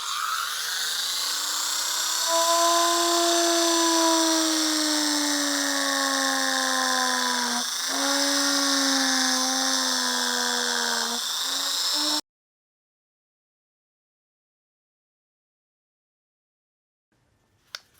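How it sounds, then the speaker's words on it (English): A Dremel fitted with a carbide burr grinds to widen a slot in a Porsche 356 SC engine bay part. It gives a steady high-pitched whine for about twelve seconds, with its pitch dipping briefly under load, then stops into silence. "I'm gonna do a little Dremel work on this just to widen that slot."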